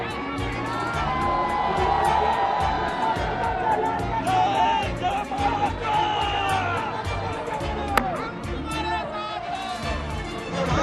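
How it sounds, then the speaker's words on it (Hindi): A large street crowd in Buldhana cheers and shouts during a road show for the actor Govinda, a steady, loud roar of voices with whistles and whoops rising and falling throughout. "गोविंदा को देखने के लिए बुल्ढाना की सड़कों पर भीड़ जुटी थी।"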